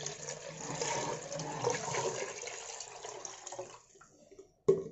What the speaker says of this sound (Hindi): अब जितना हमने दही लिया था उसका दुगना इसमें पानी डाल देंगे।